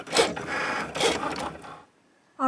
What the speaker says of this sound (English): let's pop this onto the machine and cut it out